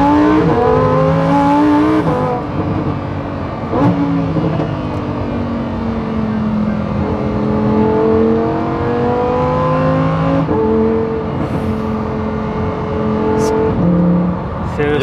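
Lamborghini Huracan STO with its naturally aspirated engine mounted just behind the cockpit, revving and accelerating loudly through several gear changes, the pitch climbing in steady sweeps with brief breaks between shifts.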